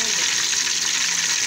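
Nargisi egg kofta fry in hot oil with a dense, steady, close-up sizzle and bubbling hiss that holds evenly throughout the short moment.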